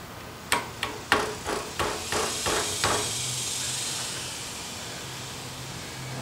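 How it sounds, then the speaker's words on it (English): A hammer gives a run of about eight quick metallic taps, easing off in strength, to seat a part onto a four-stroke motorbike during repair, followed by a soft lingering hiss. "I'm gonna give it a little tap with my hammer here."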